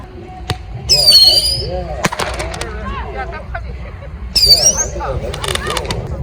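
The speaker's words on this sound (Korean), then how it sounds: "폭죽 소리 대박" Loud fireworks bursting by the sea at Jebudo, Korea, with sharp cracks and whistling squeals, several in quick succession, with voices exclaiming in between.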